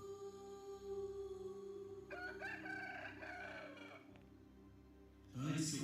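A rooster crowing sound effect rings out in an Easter church musical play, a fairly loud drawn-out crow over a steady background hum, with a brief burst of another sound near the end.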